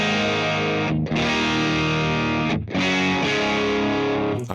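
Heavily distorted electric guitar through a simulated Orange 4x12 cabinet with G12H speakers in stereo, sustained chords rung out loud with two brief gaps where the notes cut off and restart.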